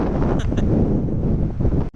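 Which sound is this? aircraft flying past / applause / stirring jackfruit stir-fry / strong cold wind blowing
strong cold wind blowing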